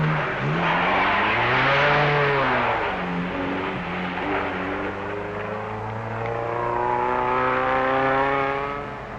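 1962 Hillman saloons on the East African safari rally climb rough roads out of the Rift Valley, engines straining loudly with rising and falling revs as gears change, continuous and close throughout.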